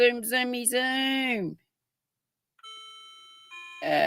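A household doorbell chimes in a home, ringing with clear sustained tones that hang and fade, following a brief burst of voice at the start and ending under louder sound.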